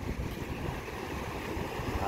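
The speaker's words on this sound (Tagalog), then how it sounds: "Medyo lumakas na naman ang hangin ngayon" Gusty wind rumbles against the microphone in a low, continuous roar, with a faint watery wash beneath it.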